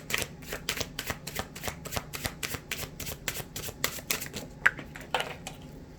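Oracle cards being shuffled in steady, rapid riffling bursts that repeat across the whole stretch, close and crisp with no talking.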